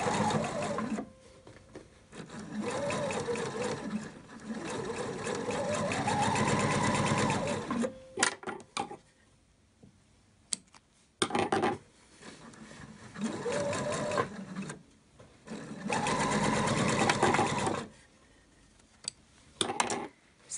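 Sewing machine stitching a diagonal seam across the fabric bias, running in several long bursts of steady rapid whirring and clicking, separated by short pauses.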